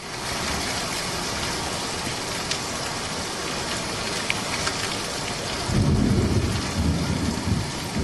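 Heavy rain pours steadily in Gangavaram, Rampachodavaram agency, Polavaram district, with a deep rumble of thunder swelling loudly over the downpour near the end.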